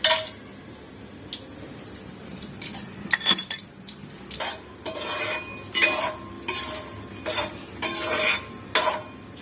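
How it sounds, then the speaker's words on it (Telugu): Whole biryani spices dropped into hot oil in a home kitchen pan for bagara rice, giving a close, scattered run of light sizzles, clinks of a metal spoon and stirring scrapes in uneven bursts. "ఇప్పుడు బిర్యానీ సామాన్లు ఇందులో వేసుకుందాం"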